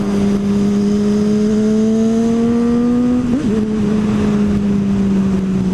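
A Honda CBR 600RR sport motorcycle is ridden on the street, its engine droning steadily and close with a slowly rising pitch, a brief dip midway like a gear change, then cruising on.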